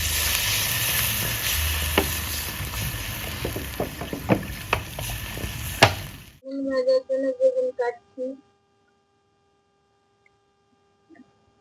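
Water hits a hot frying pan of poppy seed paste with chili, sending up a loud sizzling hiss for several seconds. A few softer bubbling pops follow as it settles, and the pan then goes quiet.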